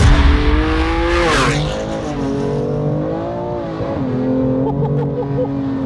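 A 650 bhp BMW M2 Competition accelerating hard on cold tyres while losing traction, its loud engine howling and rising in pitch, dipping briefly at a gear change before climbing again, with a faint tyre squeal.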